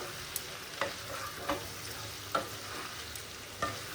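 Two small chopped tomatoes fry in a pan with spices, a faint low sizzle broken by a handful of soft, evenly spaced clinks of a spatula stirring.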